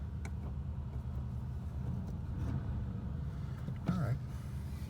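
A 1986 Oldsmobile Cutlass engine idles after its first start of the year, a steady low rumble under nearby talking.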